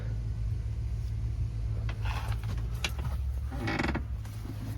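Door being forced open, giving a few scraping creaks and groans against a low background rumble, faint and close, with no talking.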